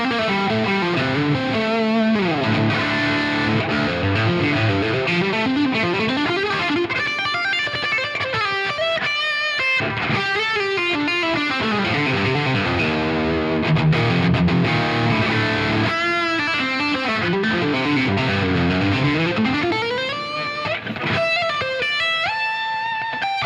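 Heavily distorted electric guitar through a Neural DSP Archetype Misha Mansoor X amp sim with room sends adding bite, playing continuous chugging riffs and sustained chords at steady high loudness, no talking.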